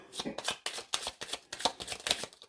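Tarot cards are shuffled in quick bursts, a series of close, crisp riffling flutters with short pauses between them.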